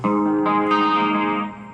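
A sustained electric guitar chord through a Korg AX3000G multi-effects unit rings out with a shimmering chorus effect, a second strum adding brightness before it slowly fades.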